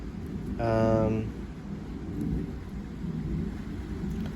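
Distant thunder rolls as a low, sustained rumble through steady background noise during a storm, with a brief tonal sound near the start.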